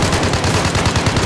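Rapid bursts of video game gunfire crackle loudly and continuously, dense automatic shots with no pause.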